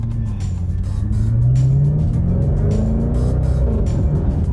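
A 2024 Jaguar F-PACE SVR's deep, booming engine rumbles loudly up close, its pitch climbing as it revs and then settling into a steady growl.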